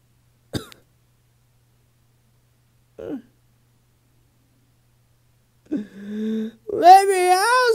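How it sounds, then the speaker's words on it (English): A video game character coughs in a cold cell: a short sharp cough, then another a few seconds later, followed by a strained throaty sound that turns into a wavering wail, all separated by silence. "I keep coughing."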